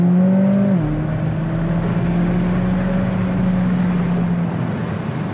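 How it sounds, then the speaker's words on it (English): A McLaren 570S Spider's twin-turbocharged V8 drones loudly and close up under hard acceleration, its pitch dropping sharply at a gear change before settling into a steady, sustained roar. "562 horsepower from a twin-turbocharged V8 engine, tons of torque"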